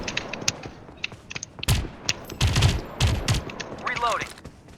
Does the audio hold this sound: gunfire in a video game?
yes